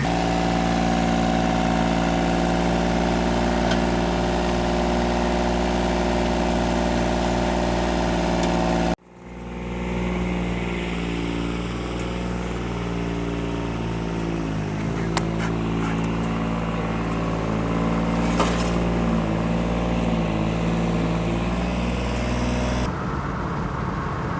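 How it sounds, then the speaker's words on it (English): A small tractor engine idles steadily with a low, even chugging hum, then cuts briefly and restarts at a lower, rougher idle that continues to the end. "A cool little tractor there."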